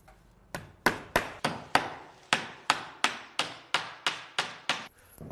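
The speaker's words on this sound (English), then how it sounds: "that felt has to bend over and trap behind the fascia board. And then nail that on." Hammer nailing roofing felt onto a wooden fascia board on a garden shed, about a dozen sharp close strikes in an even, steady rhythm with no talking.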